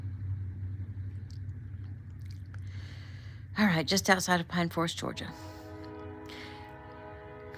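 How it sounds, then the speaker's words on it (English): A train passes just outside Pine Forest, Georgia, with a loud horn blast in the middle followed by a sustained tonal horn and rumbling, after someone speaks briefly. "Here comes a train."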